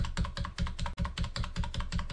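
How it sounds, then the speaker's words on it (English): Computer keyboard keys are tapped repeatedly, a steady run of close, crisp clicks about four or five per second, while the Control and up arrow keys are pressed in animation software. "You can use Control and the up arrow on your keyboard."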